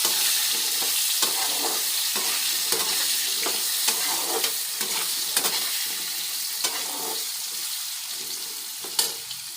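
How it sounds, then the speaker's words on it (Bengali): Potatoes frying in hot oil in a pan, a steady bright sizzle throughout with repeated soft stirring scrapes and occasional louder spatters, close and continuous with no talking. "আমি একটু আলুগুলো এখন একটু ভেজে নেব।"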